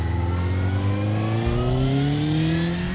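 A motorcycle engine, on a used bike worth about 3500 euros, revs up to high rpm, its loud, steady tone climbing in pitch as it accelerates, heard alone without talk.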